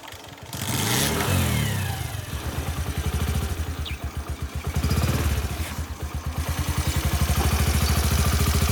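A motorbike engine revs up and down repeatedly at close range, loud and throbbing, dropping to a rough idle between pulls and climbing again, with no voices over it.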